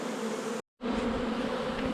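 A dense swarm of honeybees buzzes steadily and close during a hive split, a continuous droning hum broken by one brief moment of silence.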